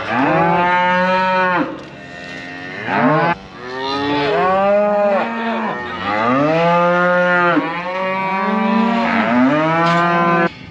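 Cows moo loudly and repeatedly, long drawn-out lowing calls with brief pauses between them, close by and unaccompanied by talk.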